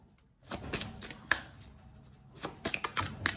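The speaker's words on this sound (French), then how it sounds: "il y a mon lapin qui est en train de gratter là, sur sa cage" A pet rabbit scratching at its cage, giving quick bursts of dry scraping and rattling taps close by, irregular and clustered at the start and end, with no talk.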